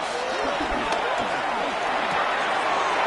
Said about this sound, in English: This crowd, they're trying to force a false start.